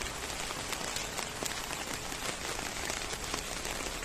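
Steady rain pattering outdoors on and around a LOVOL 35 hp 4x4 minitractor with a cab, a dense even hiss of drops at moderate volume with no voices.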